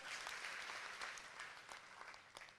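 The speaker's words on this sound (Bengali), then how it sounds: "আমাদের প্রধান অতিথি সূর্যপ্রতিম ব্যক্তিত্ব, তার জন্য অনেক জোরে একটা হাততালি দেবো আমরা" An audience at a formal ceremony claps for a chief guest, a steady, dense wash of applause heard faint and distant for the whole stretch.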